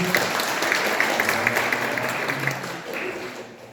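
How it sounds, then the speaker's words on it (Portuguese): Audience at a Portuguese-language health talk on cardiovascular disease applauding a speaker, a dense, steady wash of clapping from many hands that fades slightly at the end. "Uma salva de palmas para a Ivana"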